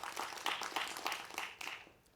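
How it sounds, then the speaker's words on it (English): Applause from a keynote audience at a conference, a soft, distant patter of clapping that swells in a few uneven bursts and then fades out. "Let's give them a round of applause"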